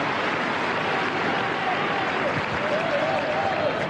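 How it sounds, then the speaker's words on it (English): Tennis crowd at the 2003 Australian Open fourth-round match, a steady broad wash of applause and crowd noise sustained throughout, with faint commentary voices underneath. "the crowd just starting to really get into this now, making their feelings known"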